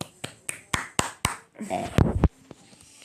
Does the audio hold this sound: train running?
no